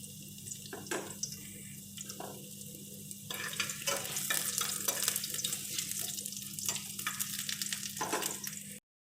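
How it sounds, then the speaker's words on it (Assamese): Cut potato pieces fry in hot oil in a kadai, giving a steady, fairly faint crackling sizzle over a low hum, with occasional scraping as they are stirred. "তাত মই কাটি ৰখা আলু কিপিচ দি দিম আৰু অলপমান ফ্ৰাইকৈ ল'ম।"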